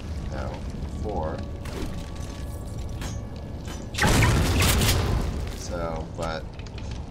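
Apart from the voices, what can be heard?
grenade explosion in video game Duke Nukem Forever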